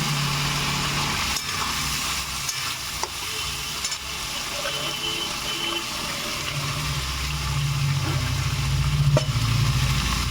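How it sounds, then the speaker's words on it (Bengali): Cabbage frying in a pan gives a continuous loud sizzle with a low rumbling bed that swells toward the end, with occasional stirring knocks. "এবার কি পড়ছে? বাঁধাকপি।"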